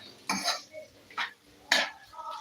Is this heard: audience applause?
no